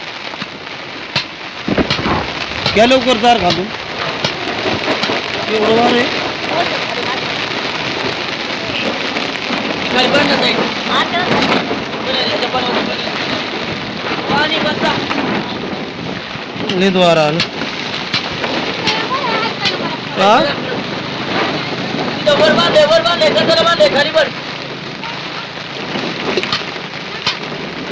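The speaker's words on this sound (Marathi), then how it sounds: "पाऊस येणार आता मोठा पाऊस येणार" Rain patters steadily on a mountainside during an oncoming storm, a dense hiss with gusty swells, while people talk over it throughout.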